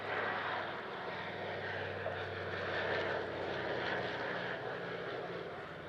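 A maritime patrol aircraft at the RAF Cosford Airshow drones steadily with engine noise, a continuous broad roar at moderate distance with no talk.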